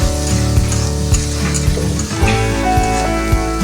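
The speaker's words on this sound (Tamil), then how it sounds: "வெங்காயம் நல்லா பொரிஞ்சிருச்சு கைஸ்" Onions frying in a pan, with a loud, continuous close sizzle and occasional stirring clinks and scrapes throughout, with no voices.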